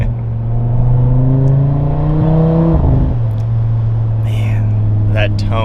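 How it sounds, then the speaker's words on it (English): An Audi RS3 with a modified exhaust cruises in second gear off the throttle, a loud, steady droning engine tone that drops sharply partway through into a lower hum, with a few faint crackles near the end. "slowly cruising in second, letting off the gas, you just hear a good overrun"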